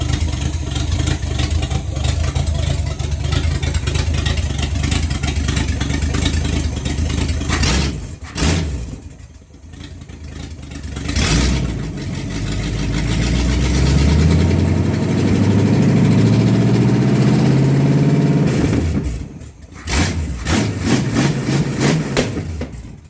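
A 350 V8 engine, running on stands without motor mounts, idles loudly and steadily close by, with a brief dip in level around eight seconds and a second one near nineteen seconds.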